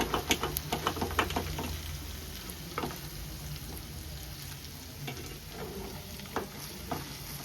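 Fish fry with green chillies hisses in a pan with a continuous close sizzle, with quick stirring clicks at the start and a few later taps.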